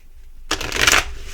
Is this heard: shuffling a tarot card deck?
yes